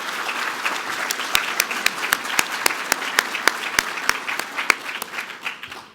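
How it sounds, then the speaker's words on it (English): A gala audience gives the staff a round of applause, a steady wash of many hands clapping with sharp individual claps standing out, sustained for several seconds before fading away at the end. "Let's give the staff another big round of applause"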